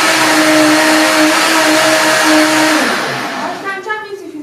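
A kitchen blender whirs loudly and steadily for a few seconds while blending food for a Caribbean antelope stew, then winds down as a person starts talking.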